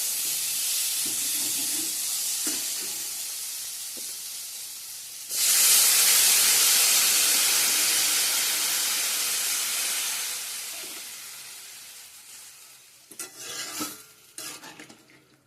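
Water poured into a hot pan of spiced curry sets off a sudden loud hissing sizzle that slowly fades, following earlier quiet stirring; a few close metallic clatters of a utensil come at the end.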